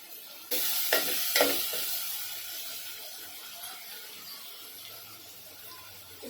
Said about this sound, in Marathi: आता आपण आहे ना टोमॅटो टाकून घेऊया टोमॅटो टाकला ना की थोडस मीठ टाकून घ्यायचं आहे